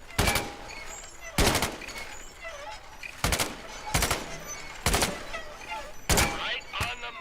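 M1 Garand rifle shots ring out in a VR video game, six loud sharp reports spaced roughly a second apart, each with a short ringing tail and faint clicks between.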